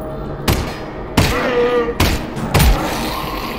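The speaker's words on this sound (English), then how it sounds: "Nice shooting, Alyx." Gunfire in Half-Life: Alyx, four sharp, loud shots spaced roughly a second apart, each trailing off with a rumbling echo.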